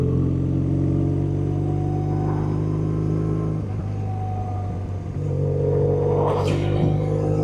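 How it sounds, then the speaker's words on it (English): A motorcycle trike's engine drones steadily while riding, a constant close rumble with wind noise, briefly easing in the middle before picking back up. "The bikes are out. Well, it's a trike"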